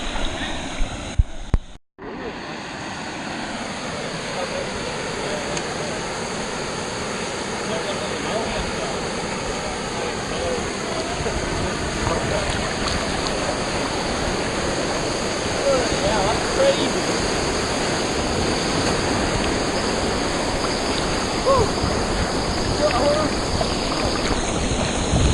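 A waterfall with swimmers nearby, heard as a loud, steady, broadband roar of rushing water that continues for the whole stretch after a brief dropout near the start.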